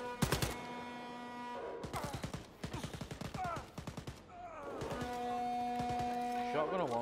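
Rapid machine gun bursts in the Wolfenstein Youngblood video game, several separate volleys of crisp repeated shots with short pauses between, ending in a steady hum and a brief electronic sweep.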